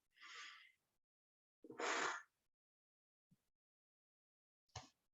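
Breathing exercise with exhalations pushed out through puckered lips: two long airy breaths, then a short puff and a brief final breath. Close and fairly quiet, separated by silence, with no talking.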